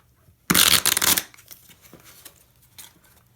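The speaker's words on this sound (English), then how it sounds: "I dislike these cards sometimes because it's so hard to shuffle." A quick burst of cards being riffled and shuffled, loud and close, lasting under a second, followed by faint handling noises.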